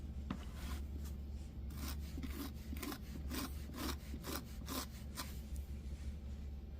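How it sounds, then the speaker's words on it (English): Steady scraping and smoothing of a primitive hand-built clay pottery bowl, a dry rasping rub repeated in quick strokes, close and fairly quiet with no talk. "It's nice if you can get it mostly done just by scraping."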